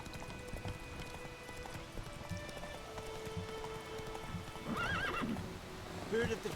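Horse in a wintry video game, hooves clip-clopping and a whinnying neigh rising near the end, mixed with falling rain and game background sounds, with voices talking through it.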